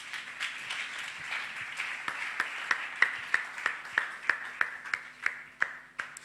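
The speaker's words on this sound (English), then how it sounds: "Clap your hands for the Lord." Congregation in church claps hands during worship, a steady rhythmic beat of sharp claps at a regular pace over a soft sustained tone, moderately loud and growing more pronounced.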